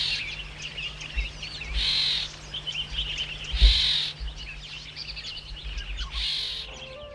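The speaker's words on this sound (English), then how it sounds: "The astonishing song of different bird species from this diverse vegetation has magical power" Songs of various bird species in the diverse vegetation of Nech Sar National Park, Ethiopia: repeated bright chirping phrases and calls from several birds at moderate distance, over a faint low outdoor hum.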